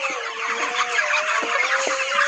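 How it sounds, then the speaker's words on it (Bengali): Forty-day-old broiler chickens in a shed cluck continuously. Many birds call at once with repeated short clucks over a dense, steady background of poultry noise, and no one speaks. "তো বন্ধুরা দেখতেই পাচ্ছ মুরগি সব বড় হয়ে গেছে"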